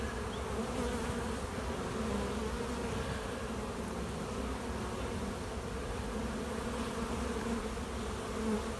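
A dense, steady hum of many honeybees buzzing together inside a hive, close and unbroken, with no voices.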